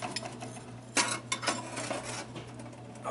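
Knives being set into a hot toaster oven for tempering at around 400 to 425 degrees, with metallic clinks and rattles of blades against the rack, close by and moderately quiet.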